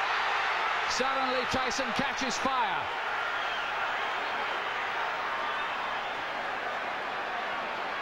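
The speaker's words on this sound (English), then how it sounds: "Listen to the crowd" Boxing crowd at a Mike Tyson title fight roaring as round three opens, a loud sustained broadband swell with a commentator talking over the start.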